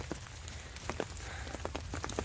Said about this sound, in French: il pleut, là je commence à être trempé